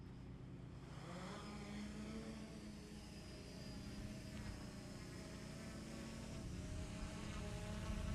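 A Develop Air XE drone's motors spinning after arming, a faint, steady insect-like buzz with a low hum underneath holding constant throughout.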